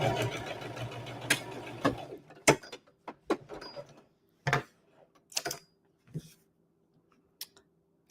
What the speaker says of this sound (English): It won't take us long to sew this together.